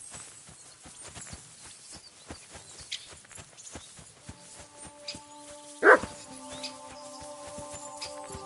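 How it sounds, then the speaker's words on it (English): A single loud dog bark rings out in the game Kingdom Come Deliverance 2, set against quiet footsteps and a faint sustained musical tone in the background. "Barking."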